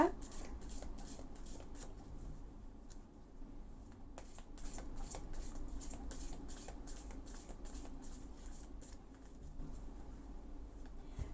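A deck of tarot cards is shuffled close by in rapid, steady riffles that run through the whole stretch, with soft cooing like a pigeon in the background.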